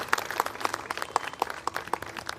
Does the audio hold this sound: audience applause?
yes